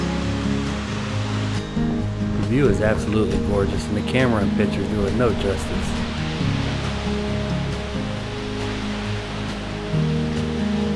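The Fall Creek Falls waterfall in Tennessee, heard from a lookout point as a constant broad rushing roar, steady and distant, under a person speaking throughout.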